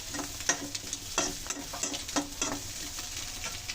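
Restaurant-style Chinese egg fried rice with beans is stir-fried over high flame. Steady loud sizzling runs under repeated scraping and tossing strokes of a spatula in the pan, with no voices.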